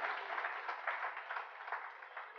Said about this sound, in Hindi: एक बार इस व्यक्तित्व के लिए आप जोरदार तालियां बजाएं।